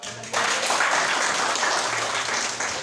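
Classroom applause from students, a sudden burst of many hands clapping that holds steady and loud for a few seconds.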